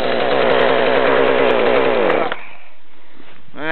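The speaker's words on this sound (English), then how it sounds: "that's my cold start of my Jonsered chainsaw this morning" A Jonsered chainsaw runs at a loud, raspy high idle on a cold February morning, then cuts off abruptly about two seconds in, leaving near silence before a brief rising whine at the end.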